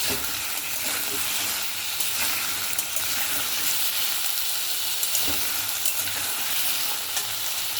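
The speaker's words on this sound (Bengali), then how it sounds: "আলুটা একটু ভাজা ভাজা করে নিই," Potato pieces fry in a pan with a loud, continuous sizzle, broken by scraping stirring strokes that recur throughout, close up, with no talking.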